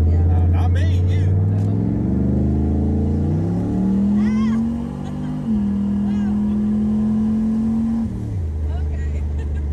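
A boosted turbocharged car on good tires accelerates hard, its engine note climbing steadily through the run and then dropping off near the end, loud and close from inside the cabin, with faint voices behind it.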